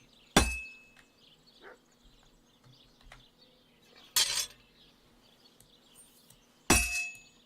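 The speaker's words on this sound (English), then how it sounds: "Now try forging it on both sides." Hammer striking a sword blade on an anvil while forging in the video game Kingdom Come: Deliverance II, three sharp ringing metallic blows spaced a few seconds apart, with faint clinks and quiet background between them.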